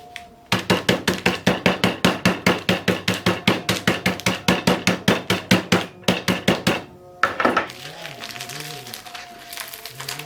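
Rapid, evenly spaced hard thuds from an iron tool pounding Oreo biscuits inside a sealed packet, close and loud, about two strikes per second for several seconds. A pause follows, then lighter scraping and crinkling of the packet.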